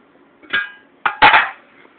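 Thin aluminum heat shield for a Racing Beat header, handled by hand: three bright metallic clanks and rattles, one short knock then a longer double clatter, close and alone against a quiet room.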